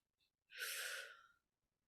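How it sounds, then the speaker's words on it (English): A single slow, deep inhalation lasting just under a second, soft and close, follows a tiny click in otherwise near silence. "Let's take a breath."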